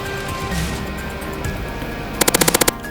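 A Scrap Mechanic A-10 Warthog gun fires one rapid burst of about eight sharp cracks near the end. Before the burst there is a low mechanical hum and a faint whine.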